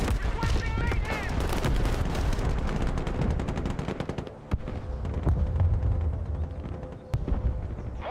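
Rapid crackling gunfire and volleys of shots roll through a Broken Arrow battle, dense and continuous with scattered louder cracks, as radio-style voices talk over the fighting.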